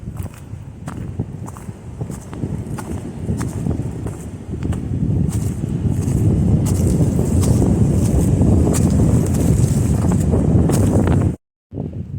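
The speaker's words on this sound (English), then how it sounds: "I found the wind. Or should I say the wind found me?" Strong wind blows across an exposed mountain trail in the Appalachians on a wintry day, a loud, continuous roar buffeting the microphone that builds and stays heavy, with crunching footsteps underneath before a brief drop-out near the end.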